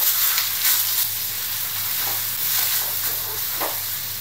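Wide rice noodles with sweet dark soy sauce and pork stir-fried in a hot pan, a steady close sizzle and hiss with light scraping as the noodles are tossed.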